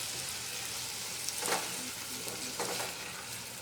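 Amla pickle with jaggery being mixed in a pan: a dense, constant hiss with soft scraping swells of stirring throughout, fairly quiet and continuous.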